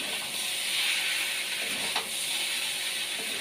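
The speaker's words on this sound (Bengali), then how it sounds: "নুন দিয়ে আলু পেঁয়াজটা খুব ভালো করে কষে নিচ্ছি" Potatoes and onions with salt frying in a pan, a dense, steady hiss of sizzling oil that carries on evenly throughout, with a faint stir near the middle.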